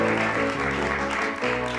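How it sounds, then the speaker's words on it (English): Applause for performers from a high school at a live poetry event, dense and steady throughout with a few voices mixed in. "Let's hear another round of applause from Amerenek High School."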